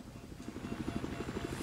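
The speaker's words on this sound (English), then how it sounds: "I see that chopper out there." Helicopter in Battlefield 4 gameplay, a faint, rapid rotor chop pulsing steadily in the distance for a brief moment.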